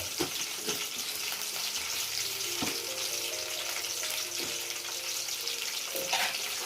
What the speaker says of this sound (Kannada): ಈಗ ಸಾಸಿವೆ, ಜೀರಿಗೆ ಒಂದು ಸ್ವಲ್ಪ ಸಿಡಿಲಿ.